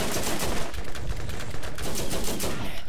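Machine gun fire in the Borderlands video game, a continuous loud rattle of rapid shots running the whole time with no pauses.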